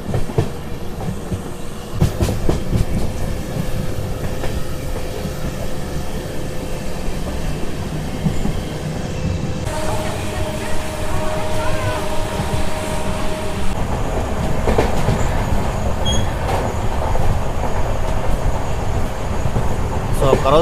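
Train 13125 from Kolkata to Sairang in Mizoram runs on rails through hill country, a loud continuous rumble with clattering wheels and a brief sharp jolt, heard from inside the carriage.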